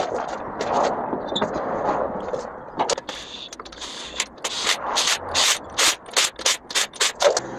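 Lug nuts are run back onto a Dodge Avenger's wheel during a wheel speed sensor job: close ratcheting clicks and scraping, then a quick run of loud, rhythmic mechanical bursts toward the end.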